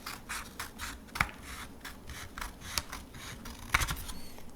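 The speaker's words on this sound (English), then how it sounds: "I'm going to cut some more off." Scissors snipping paper for a koi fish craft, a close series of quick soft cuts with a few sharper clicks of the blades, no talking.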